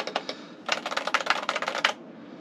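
Crisp, clicky keystrokes on a custom mechanical keyboard: a few isolated taps, then a quick, dense run of typing for about a second, close and clear with no voice over it.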